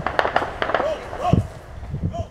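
Sharp cracking gunshots break out in a rapid, irregular burst near a polluted, sewage-fed bay in Rio de Janeiro, close and loud with people talking over them.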